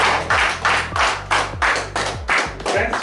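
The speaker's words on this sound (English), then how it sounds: "we can have a clap of it." Audience clapping in a lecture hall during a communication-skills talk, arriving in about eight rhythmic bursts with a low humming tone running underneath.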